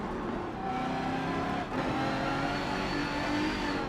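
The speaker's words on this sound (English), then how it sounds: "I really hear the engine scream" A Ferrari FXX K engine screams at high revs at the Nürburgring in Forza Motorsport 7, rising and shifting pitch as it accelerates, loud and continuous with no voices.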